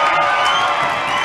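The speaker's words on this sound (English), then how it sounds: "UCU and City Oilers fans are cheering this young fella for his outstanding and unbelievable performance" Loud arena crowd of basketball fans roaring and cheering after a made free throw at an NBL Finals game between City Oilers and UCU Canons, a dense continuous wash of voices.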